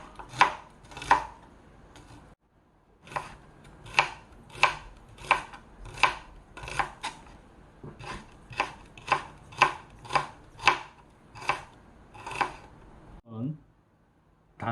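A knife chops food on a cutting board in a home kitchen while cooking duruchigi, with a steady series of crisp, evenly spaced taps, close and clear. A voice talks quietly underneath, and there is a short pause partway through.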